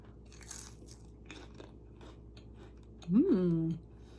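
Someone bites into a Christmas crack treat, giving a few faint crunches, then a brief voiced sound with a louder burst near the end, all at close range.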